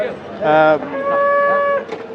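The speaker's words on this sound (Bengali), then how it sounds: "ধূসর কালারের এই গরুটি আমরা দেখছি" A grey cow at a cattle market gives a loud, close moo that rises then holds as a long, steady tonal bellow before trailing off, with no talk over it.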